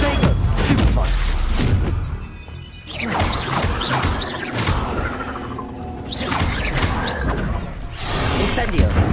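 Stupefy and Protego spells fire off during Hogwarts Legacy combat, a dense, loud run of magical blasts, thuds, crashes and clanking impacts with short lulls between bursts.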